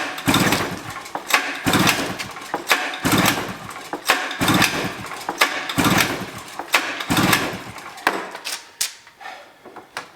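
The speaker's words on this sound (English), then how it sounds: "I got it to start with some starter fluid" A small petrol engine cranks and fires on starter fluid, faulty on fuel rather than spark: repeated loud rhythmic pulls and bursts of coughing engine noise, close and alone, fading toward the end.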